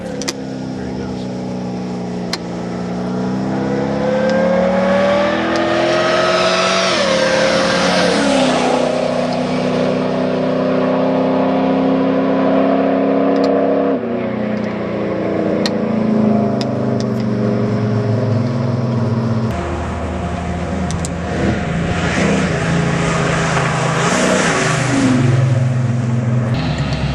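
A 1970 Chevelle SS with a 502 Mark IV crate engine revs and accelerates away, a loud throaty roar rising and shifting through gears over about half a minute, with people talking throughout.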